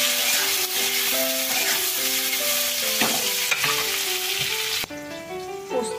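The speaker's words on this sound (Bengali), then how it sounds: "চাপাটা খুলে মাঝে মাঝে আলুটা একটু উল্টে পাল্টে দিচ্ছি।" Potatoes frying in a pan for a vegetarian poppy-seed (posto) dish, stirred and turned now and then, give a steady close sizzle with occasional scraping, under a melodic music track.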